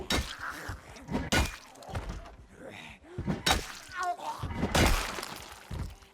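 Glass shatters as a window breaks in the zombie survival game Project Zomboid, several sharp crashing bursts scattered among thuds and game noise, with people talking over the action.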